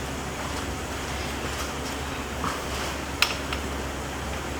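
A 1978 Ford Mustang II engine idles with a vacuum leak at the brake booster hose, giving a steady, even drone and hiss with one faint click partway through.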